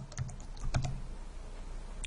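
Keystrokes on a computer keyboard while searching from the Windows 8.1 start screen, a few quick close taps in short bursts with quiet gaps between them.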